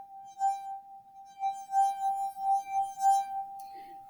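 A glass rings with a sustained pure resonant tone as force is applied, steady throughout and swelling louder in several repeated pulses, with a faint bit of speech near the end.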